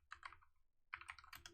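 Quick bursts of clicking keystrokes on a computer keyboard, two short runs of typing separated by a brief pause, close and fairly quiet.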